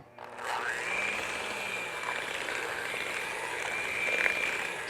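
Electric hand mixer beating salted caramel shortbread dough with vanilla extract, a steady whirring motor hum that starts abruptly and runs continuously at moderate volume, with slight rattling against the bowl.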